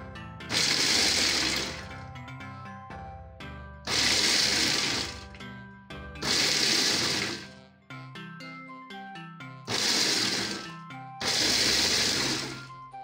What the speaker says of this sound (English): I'm going to use my food processor to give it a rough blend